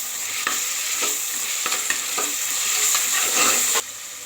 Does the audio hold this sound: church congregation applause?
no